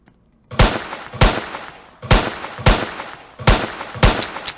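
Pistol shots in a Roblox game built in Roblox Studio, six sharp bangs, each with a short decaying tail, fired in an uneven rhythm of pairs and singles, loud and close with no voices.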